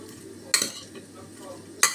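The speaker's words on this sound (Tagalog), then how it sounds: "Haluin natin." Pork chop marinade with vinegar being stirred in a bowl, a low steady scraping with two sharp clinks of the utensil against the container, close and moderately quiet.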